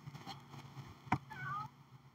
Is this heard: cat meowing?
yes